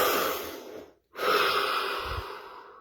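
Close-up, audible deep breathing: a long, airy exhale fades into a brief silent pause, then a strong inhale follows and slowly tapers off.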